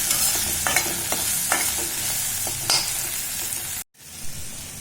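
Okra sautéed with turmeric and tamarind sizzles in a pan under repeated spatula stirs and scrapes, a loud steady frying hiss that cuts off abruptly near the end and then returns more quietly.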